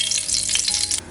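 Ghee heating in a kadai for Kerala mutton biriyani, giving a steady, close hiss and sizzle with small crackles throughout a brief moment, and no talk.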